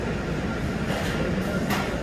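A Sillim Line light metro train turning back at Saetgang station, a steady low rumble of wheels and motors with rising whine, heard from the platform over continuous station ambience.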